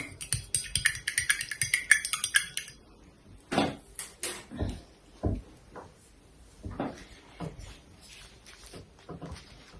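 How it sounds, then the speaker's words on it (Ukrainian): A drop of NB101 growth stimulant is stirred into a small cup, making a quick burst of light clinks followed by scattered soft taps and knocks, all quiet and close. "У стаканчик розмішаю."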